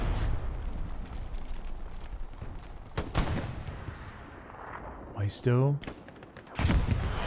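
Gunshots ring out in Hell Let Loose on the Omaha map, with a few sharp, loud cracks and distant battle noise, plus a short rising game tone near the end.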